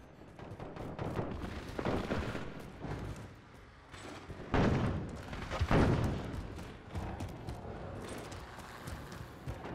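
In Call of Duty Modern Warfare multiplayer, an airstrike lands as a string of heavy booming explosions, loud and rumbling, with the two biggest blasts falling close together near the middle amid ongoing battle noise.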